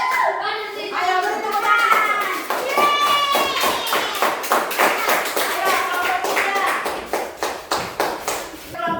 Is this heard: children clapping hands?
yes